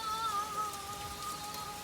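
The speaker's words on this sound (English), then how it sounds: "It is really raining hard right now." Heavy rain pours steadily in a continuous dense hiss, with drops drumming on surfaces at a farmhouse construction site; a faint tonal hum runs underneath and no one speaks.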